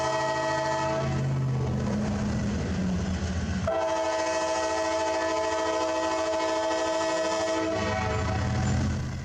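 Freight train 674 rolls past close by, a loud continuous rumble and wheel noise with a sustained horn tone layered through most of the passage, steady from start to finish.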